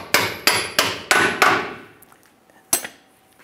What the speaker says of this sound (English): I want to go ahead and tap this bolt through